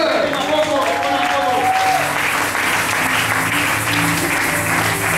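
A church congregation at a seminar service applauds in a dense, continuous wash of clapping that fills the room, while a voice speaks over it.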